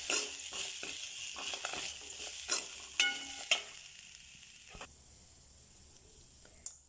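Green chili, ginger, garlic, fennel seeds, cashews and almonds are sautéed in a pan, giving a soft steady sizzle with a few sharp stirring scrapes and clinks close by, no talking.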